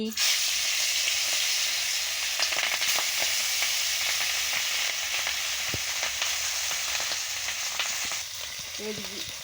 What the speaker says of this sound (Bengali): কড়া গরম হয়ে গেছে, আমি মাছটা দিয়ে দিচ্ছি।